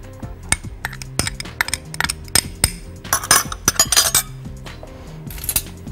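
An egg being beaten in a bowl with a utensil for cheddar cauliflower pancakes, quick irregular clinks and taps of metal against the bowl in short clusters, close and clear with no talking.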